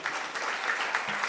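An audience claps for young gurukul children at a religious inauguration ceremony, a brief burst of dense, steady applause heard from a moderate distance.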